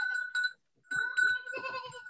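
Goats on a farm bleat in a few loud, close, wavering calls, a short burst followed by a longer overlapping series after a brief pause.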